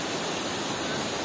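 Düden waterfall in Antalya, Turkey, a steady broadband roar of falling water that holds constant throughout, dense and full with no breaks.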